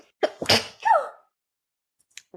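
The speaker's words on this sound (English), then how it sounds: "I'm going to sneeze again." A single sharp sneeze with a short breathy lead-in, close and loud, then quiet apart from a faint click near the end.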